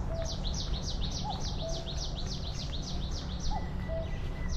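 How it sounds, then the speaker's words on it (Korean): Birds sing along a trail on Hajungdo's riverside ecological park: a rapid run of high, bright chirps repeats through the clip, with a few thin whistled calls, all moderately near over a soft outdoor background and no speech. "곳곳에서 새소리도 정말 많이 들리고 있거든요"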